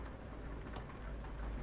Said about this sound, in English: Rain coming down.